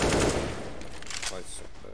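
Burst of automatic rifle fire from a Counter-Strike match, a short rapid spray that fades quickly, with game audio and voice chat behind it.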